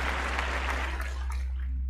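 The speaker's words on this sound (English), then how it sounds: "And a round of applause for Brandon." Applause on a paranormal call-in show, a brief steady wash of clapping over a low constant hum that fades toward the end, with no one talking.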